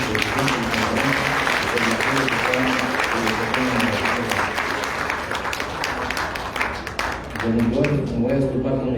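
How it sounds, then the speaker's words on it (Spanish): A conference audience applauds a doctor, the conference chair, with sustained clapping while a voice speaks over it through most of the stretch. "les pidamos con un gran aplauso al doctor Liborio"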